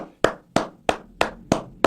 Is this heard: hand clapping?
yes